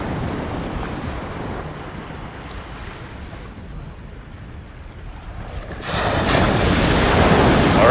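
Ocean waves and wind at a San Francisco beach, a constant broad roar of surf with wind buffeting the microphone, swelling louder as a wave breaks near the end.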